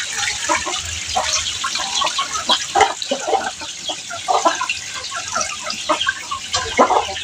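Water pours and splashes as it is drained off soaked ground corn, a continuous rushing trickle with uneven gushes, while chickens can be faintly heard in the background.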